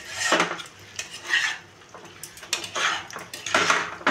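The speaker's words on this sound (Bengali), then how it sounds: "ভাজা চিকেনটা দিয়ে একটু নেড়ে নেবো ভালো করে।" Stirring fried chicken in a pan for chilli chicken, with sharp metallic scrapes and clinks of a spatula against the pan in irregular bursts, close and fairly loud with no talk.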